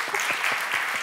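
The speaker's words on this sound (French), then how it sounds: "Ah oui, on peut les applaudir, bien sûr." A short burst of audience applause, dense and even clapping that fills the whole moment with no talk over it.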